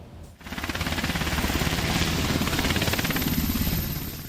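A police helicopter flies close overhead during a film shoot in Istanbul, its rotor chop a loud, fast, steady pulse that swells in after a brief pause and stays strong, with no voices.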